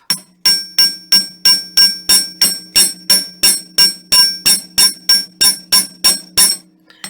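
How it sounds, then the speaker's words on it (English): A hammer strikes the tip of a jewelry wire on a metal block for a wire-wrapped pendant, about twenty sharp, ringing blows in an even, steady rhythm, loud and close. "I'm going to hammer the tip of it more and into the curve"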